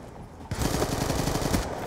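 Loud KSG shotgun fire in Black Ops 2 gun game on the Downhill/Mirage maps: after half a second of low background, a dense burst of rapid, closely packed shots runs to the end.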